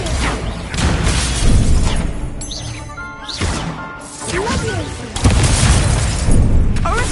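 Booming fire-spell blasts and crashing impacts from Hogwarts Legacy ring out during a fast magical video game duel, several loud hits in quick succession with voices shouting incantations between them.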